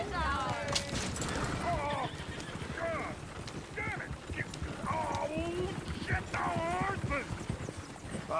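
A horse whinnies and squeals repeatedly in bursts over clopping hooves, close and lively, with people talking in the background throughout.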